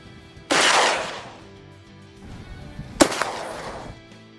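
A 12 gauge shotgun fired at a target 50 yards away outdoors, two loud sharp blasts a few seconds apart, each trailing off in a rolling echo, with no talk.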